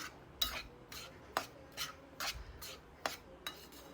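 Dry fruits stirred and roasted in a pan over a low flame for green moong laddus, heard as quiet, regular scraping strokes of a spoon against the pan with no voices.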